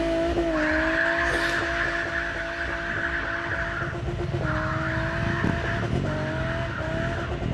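A Honda S2000 slides sideways out of a car meet with long, high tire squeals over a revving engine. Two sustained squealing passes are heard close and loud, with crowd noise underneath.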